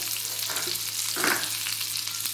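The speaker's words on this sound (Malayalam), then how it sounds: "നല്ല ഒന്ന് പൊരിച്ചെടുക്കാം" Egg slices for an egg masala burger fry in a pan over a slow flame, giving a steady soft crackling sizzle throughout with a brief louder spatter in the middle, no voices.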